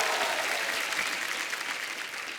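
A studio audience claps loudly and steadily for a ghazal singer on a Hindi comedy TV show stage, a dense, even wash of applause throughout.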